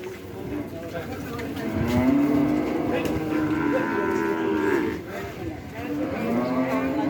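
Cattle mooing at a village cattle market after Eid, long low drawn-out bellows close by, with people talking in the background.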